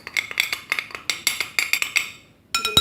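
A metal spoon clinks and taps against a bowl or container while starch is measured out for a home beauty recipe, a rapid run of bright close clinks, a pause, then a few more.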